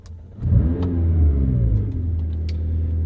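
A McLaren GT supercar engine fires up in its loud exhaust mode, a short whirring start swelling into a deep, close rumbling idle that settles and holds steady.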